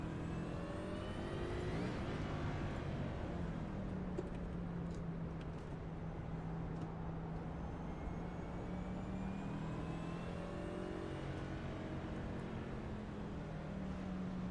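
A pack of race cars rolling behind the pace car in a racing game, a steady layered engine drone with wavering pitches from several cars, moderately distant and continuous without talk.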